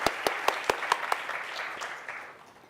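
A few sharp, evenly spaced claps ring out near at hand, then fade into a brief patter of scattered applause.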